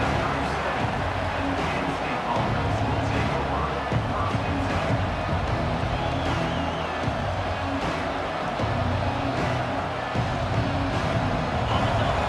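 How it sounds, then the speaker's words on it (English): A dense, continuous roar of a large stadium crowd in a college football video game, with murmuring and cheering blending into a steady wall of noise throughout. "Listen to the crowd energy here in the early going."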